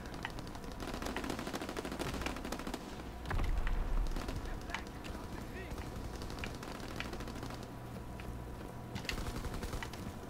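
Gunfire rattles through a Call of Duty: WWII team deathmatch, with scattered shots and short automatic bursts plus a louder thump, all under constant game noise and faint talk.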